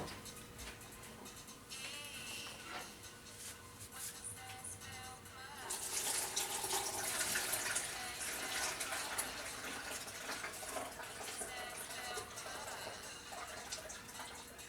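Water runs from a tap into a kitchen sink, a steady broadband hiss that grows louder about halfway through and continues to the end, with no talking.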